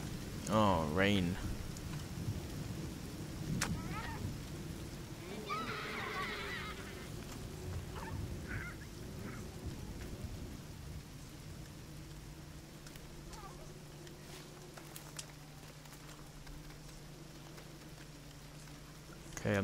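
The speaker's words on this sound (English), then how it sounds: "Oh, rain." Soft, steady rain patters throughout in the video game The Forest, with occasional honking calls and brief clicks and thumps scattered over the hiss.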